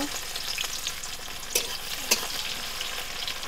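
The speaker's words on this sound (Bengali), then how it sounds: "এখন পেঁয়াজ দিলাম" Steady sizzling of onions frying in hot oil for a chicken dish, with a couple of sharp scraping clicks from a utensil stirring the pan.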